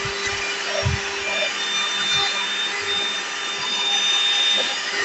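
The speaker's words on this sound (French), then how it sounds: "j'ai réussi à aspirer le riz, mais pas avec la brosse, avec cet embout-là." A cordless vacuum cleaner, run without its brush head and fitted with a narrow nozzle, sucks up spilled rice. It gives a steady, fairly loud whine throughout, with a few faint low knocks and rattles and no speech.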